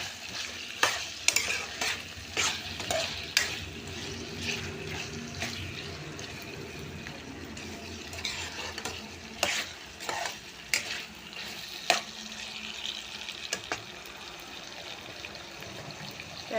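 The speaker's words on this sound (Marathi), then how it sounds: "वांग घालायचं. आणि व्यवस्थित परतून घ्यायचं 1-2 मिनिटं." Brinjal sautéing in a pan for the Jalgaon-style roasted brinjal bharit, a steady soft sizzle with repeated scraping stir strokes and clinks throughout, close and moderately loud, no voices.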